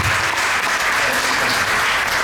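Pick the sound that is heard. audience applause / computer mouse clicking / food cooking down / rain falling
audience applause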